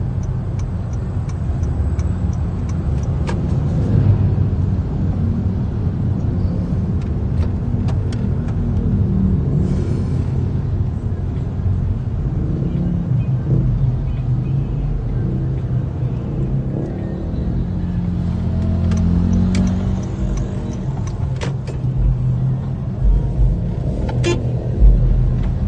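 A car driving on the road, a continuous close low rumble of engine and tyres with faint ticking, steady throughout with no voices.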